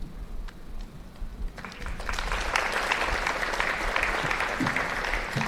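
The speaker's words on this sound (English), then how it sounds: "Oh, is that applause for the Inquisition Committee?" Applause at an all-academic meeting on campus, starting with scattered claps and swelling into a sustained round from the gathered faculty and staff.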